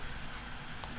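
Computer keyboard in a network configuration session: two crisp key clicks near the end, the last a firm Enter press, after a quiet stretch of room noise.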